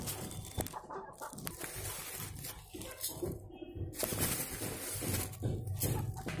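Chickens cluck steadily nearby, with scattered squawks and fluttering over a busy farmyard background.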